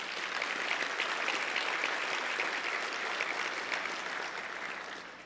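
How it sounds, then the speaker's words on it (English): Seated attendees at a morning Port of Long Beach event give steady, moderately distant applause that swells slightly and then tapers off toward the end. "Let's give them all a big hand of applause."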